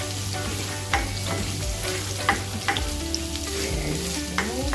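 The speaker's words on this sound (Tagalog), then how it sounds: "Again, papulahin natin yung ating bawang." Garlic sautés in a pan, a loud continuous sizzle and crackle with occasional scrapes and taps of a utensil stirring, close up and free of talk.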